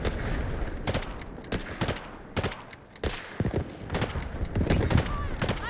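Sniper rifle shots in the Delta Force dam battle ring out as repeated sharp reports, about seven or eight spaced across the clip, with players talking between and over them.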